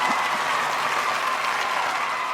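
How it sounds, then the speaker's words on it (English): Studio audience applauding a guest's arrival on a talk show, a steady dense wash of clapping hands held at an even loud level for the whole stretch, with no voices over it. "And the crowd we hear, they go wild for you."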